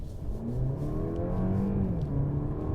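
A 2022 Mercedes-Benz C300 with a nine-speed automatic accelerating hard, the engine note climbing steadily in pitch with rising harmonics, loud and close, heard alone.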